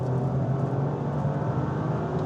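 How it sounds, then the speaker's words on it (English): Toyota GR Yaris (2025 facelift, automatic) downshifting into third and accelerating hard, a steady loud low engine drone heard from inside the cabin, continuous with no speech. "And you could tell we downshift to third, put our foot down."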